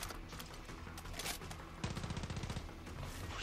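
Rapid gunfire from a weapon in Far Cry 6, with a burst of fast automatic shots in the second half over quieter scattered shots and game noise, moderately faint overall.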